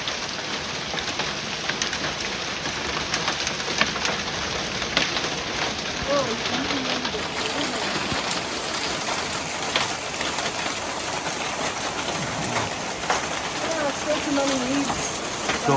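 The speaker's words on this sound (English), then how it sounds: "So we got hail here today." Hail and rain fall steadily on a mountain trail at Shenandoah, a dense continuous patter with sharper scattered ticks, while a voice talks intermittently over it.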